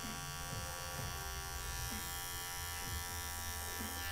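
Electric hair clippers set to a number two guard buzz steadily and continuously while blending a high fade at a barbershop, a close, even motor hum with slight changes as the blade moves through hair.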